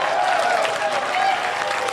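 An audience gives a round of applause, steady dense clapping from many hands held at an even level for the whole moment.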